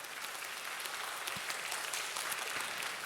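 A church congregation at a Korean service applauding together, a dense steady clatter of many hands at moderate distance, with no talk over it.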